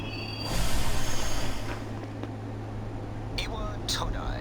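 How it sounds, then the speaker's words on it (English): A train pulls into a station in the video game Persona 3 Portable: a steady low mechanical hum with a swelling rush of movement early on, then a couple of sharp, rising wheel or brake squeals near the end. "This is the final train bound for Tatsumi Port Island."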